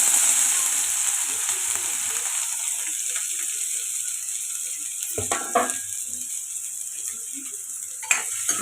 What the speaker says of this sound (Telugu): ఇప్పుడు కట్ చేసి పెట్టుకున్న ఉల్లిపాయలు పచ్చిమిర్చి వేసుకుందాం